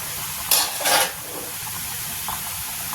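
Ginger and green chilli hit hot oil in a pan for a masoor dal with spinach, giving two short bursts of sizzling followed by a steady low frying hiss.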